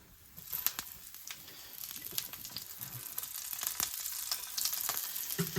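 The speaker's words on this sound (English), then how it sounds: "One, so you don't burn yourself so much on the splattering oil." Brussels sprouts sizzle and spit in hot splattering oil, a steady crackling fry with sharp pops that grows louder and busier toward the end, close up with no talk.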